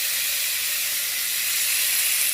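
Big, thick snapper fillets sear in a hot pan with a steady, loud, broadband hiss and sizzle that holds unbroken throughout, with no voices over it.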